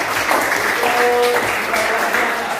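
Classroom applause during an economics lesson, a short burst of steady clapping from students filling the room, with faint voices mixed into the clatter.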